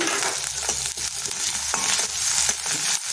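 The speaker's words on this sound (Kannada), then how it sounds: "ಮಗ್ಲಿ ಶುಂಠಿ ಬೆಳ್ಳುಳ್ಳಿ ಪೇಸ್ಟನ್ನು ಹಾಕ್ಕೊಂಡ್ಬಿಡೋಣ" Ginger garlic paste frying in hot oil over high heat for homemade fried rice, giving a loud, busy sizzle broken by sharp scraping and stirring clinks of a spoon against the pan, with no talking.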